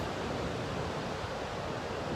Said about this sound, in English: behind me is the Gold Coast Sea, and it's the ocean